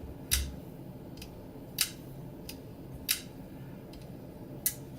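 A Chris Reeve Sebenza folding knife's mechanism snaps shut with sharp clicks, about five crisp clicks spaced irregularly over a few seconds, close and clear against a quiet background with no talking.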